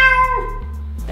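A human voice imitates a cat, giving a single drawn-out meow that bends down in pitch and trails off, close and clear.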